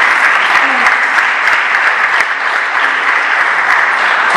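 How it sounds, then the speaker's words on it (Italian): Steady audience applause fills a comedy show from start to finish, dense and even with no talk over it. "Applauso amaro il vostro."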